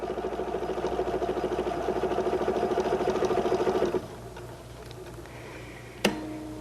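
A Husqvarna Viking #1 sewing machine doing Omnimotion directional stitching hums with a steady, fast rhythmic needle chatter for about four seconds. It then drops to a quieter idle, with a single sharp click near the end.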